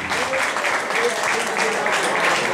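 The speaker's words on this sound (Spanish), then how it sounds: "El aplauso para ellos también." Applause from the guests at an evening dinner event honoring a group from Gimnasio San José, a steady wash of clapping lasting a few seconds with faint voices mixed in.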